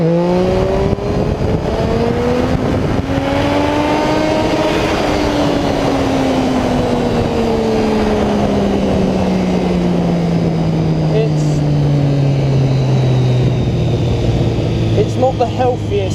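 A 2008–2011 Triumph Street Triple motorcycle engine revs up to the limiter during a wheelie, then the pitch falls steadily as the engine winds down, loud and close, with a voice talking over it.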